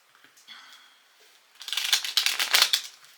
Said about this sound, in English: I'm just shuffling this little deck over here.